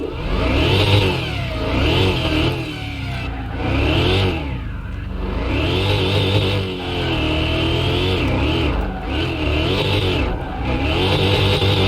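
Corvette engine in the game Car Mechanic Simulator 2021, loud and close, revving hard through repeated rising sweeps with brief dips between gear changes, continuous with no talk.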